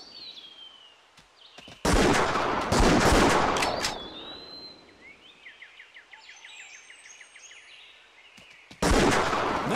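Hunting rifle gunshots in the Wii video game Buck Fever, two loud, sharp blasts with rolling echoes several seconds apart, with game bird chirps and whistles between them.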